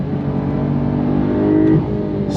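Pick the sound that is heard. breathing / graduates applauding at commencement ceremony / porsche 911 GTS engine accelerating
porsche 911 GTS engine accelerating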